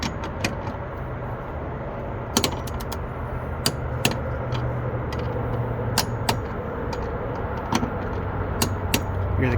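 A torque wrench clicks while tightening a bolt to 21 newton-metres during a Victron Smart Shunt installation: sharp, close metallic clicks at irregular intervals over a steady low hum.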